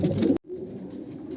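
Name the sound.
pigeons cooing during pairing season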